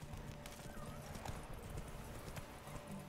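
Roach, Geralt's horse in The Witcher 3, gallops with steady clip-clopping hoofbeats over a busy game soundscape, with a neigh rising partway through.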